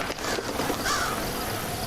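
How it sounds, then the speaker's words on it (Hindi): Crows in the Hello Neighbor game, a few harsh caws rising out of a dense noisy background, moderately loud and with no talk. "इतने सारे कौवे वगैरह कहाँ से आ गए?"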